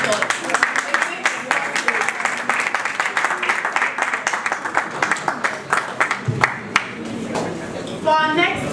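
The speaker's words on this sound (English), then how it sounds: "please help us recognize our sponsors with a big round of applause" Dense, steady applause from a conference crowd recognizing sponsors fills the room, with a voice briefly speaking over it near the end.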